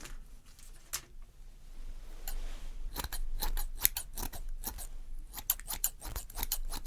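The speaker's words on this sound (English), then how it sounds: "It needs a little trimming." Scissors snip in crisp, close, quiet cuts during a Halloween tailor role-play, single clips at first and then quicker clusters of trimming snips over soft rustling.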